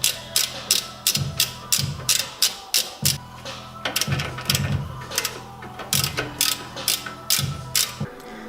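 A hand ratchet loosens the lower bolts of a car's coilover, its pawl clicking in rapid bursts with brief pauses between strokes, loud and close, and no voices.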